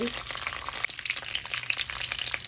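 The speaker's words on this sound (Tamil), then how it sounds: "இப்போ புதினா சட்னி இறக்கிறதுக்கு கடுகு கடலைப்பருப்பு போட்டிருக்கிறேன் ரெண்டு பூண்டு போட்டிருக்கிறேன் கொஞ்சம் கருவேப்பிலை" Mustard seeds, chana dal, garlic and curry leaves fry in hot oil for a mint and coriander chutney, giving a steady close crackle with scattered sharp pops and small spits throughout, and no one speaking.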